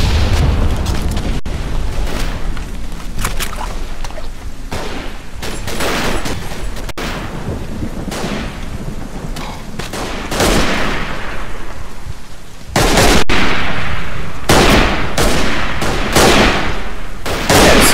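Bolt-action rifle fire in the Verdun video game, set in Flanders: repeated loud gunshots and booming blasts crowding one another through a dense battlefield din, with a heavier burst of fire near the end.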